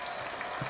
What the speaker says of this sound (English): Yeah, we got a clap, mate.